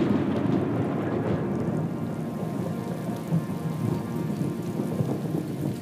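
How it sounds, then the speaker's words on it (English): Steady rain falls over the Big Cypress Swamp in the Everglades as a dense, continuous hiss of drops, evenly loud throughout with no voices. "The winds would blow the clouds west, and the water would return as rain."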